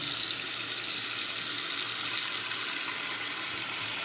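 Tap water pours steadily into a bathroom sink, a loud, even hiss and splash that stays constant throughout with no voices.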